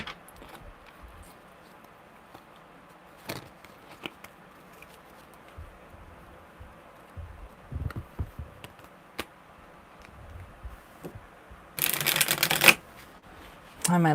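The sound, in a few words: shuffling a deck of tarot cards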